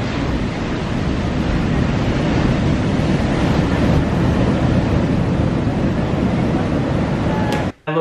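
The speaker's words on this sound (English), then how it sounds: "The tide is coming in." Ocean waves surge into a sea cave as the tide comes in, a loud, continuous wash of churning water with steady broadband roar, cut off abruptly near the end.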